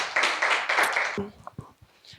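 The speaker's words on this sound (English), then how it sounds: "Please give Edike a round of applause." Audience at a Children's Day celebration event breaks into a short, lively burst of clapping and cheering that cuts off after about a second, followed by a voice speaking over a quieter room.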